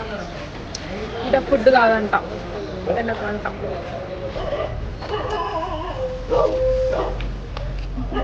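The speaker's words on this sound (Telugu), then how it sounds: "కుక్కలు అరుస్తున్నాయి బాగా." Dogs bark and yip in short bursts at a roadside eating stop during a cousins' long car trip, mixed under steady conversation from several people.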